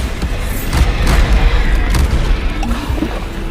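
Repeated Bombarda spell explosions in Hogwarts Legacy, loud booming blasts with crashing impacts arriving in quick succession over continuous battle noise.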